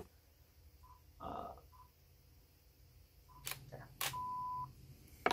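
A camera's shutter release fires amid a few electronic beeps and sharp mechanical clicks in a quiet room, with brief bursts of handling noise between them.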